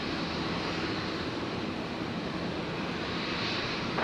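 A Virgin Boeing 737-800 jet rolls down the runway on its takeoff run toward Sydney, a steady, loud, broadband engine roar with no break, holding close and even throughout.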